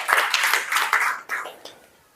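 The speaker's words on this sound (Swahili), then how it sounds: "Naomba tujipigie makofi ndugu wajumbe." Delegates at a regional youth council meeting in Kagera clap together in a short burst of applause that quickly fades away.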